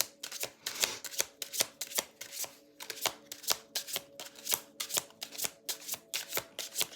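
Tarot cards being shuffled by hand, a steady run of crisp riffling slaps repeating about twice a second, close and clear with no talking.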